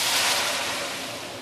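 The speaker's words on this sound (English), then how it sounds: "And now we can actually add in the hot water." Hot water poured into sizzling curry paste for curry tofu puffs gives a loud, steady rushing hiss that fades slightly over a second and a half, with no voices.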